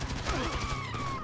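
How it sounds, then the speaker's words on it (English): Rapid gunfire from Grand Theft Auto V, a dense fusillade of shots layered over ongoing game sound, loud and continuous for about a second. "I shot the guy, but I guess I shot Tracy in the head, though."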